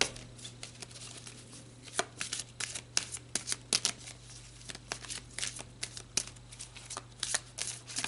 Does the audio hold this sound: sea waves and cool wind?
no